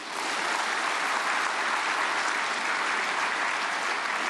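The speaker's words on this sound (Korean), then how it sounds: "박수로 환영하시겠습니다" Dense, sustained applause from a large crowd, loud and even throughout with no voices over it.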